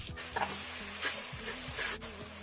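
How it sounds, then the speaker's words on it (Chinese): Minced garlic and chopped chili sauce sizzle in hot oil in a pan, a quiet, continuous frying hiss broken by a few short stirring scrapes. "油热下蒜末"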